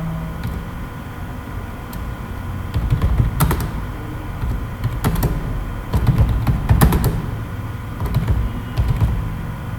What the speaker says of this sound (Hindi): अगर मैं कुछ टाइप करता हूँ, जैसे सपोज करो मैं अपने बारे में कुछ टाइप करता हूँ,